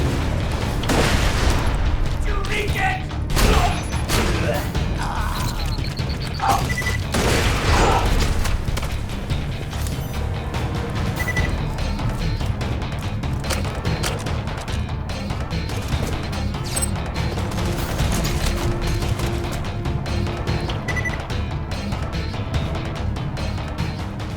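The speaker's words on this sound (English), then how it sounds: "Grenade out." Borderlands 2 combat with a grenade explosion and gunfire: repeated loud bursts and crashing booms over a dense, busy din of action, with no voices heard.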